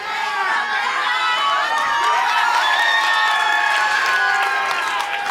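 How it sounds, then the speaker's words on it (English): A Chaotic Wrestling crowd in Watertown cheers and shouts during a match, a dense, continuous roar of many voices with whoops rising over it, loud and close throughout. "The crowd here in Watertown in full support of this big stalling suplex"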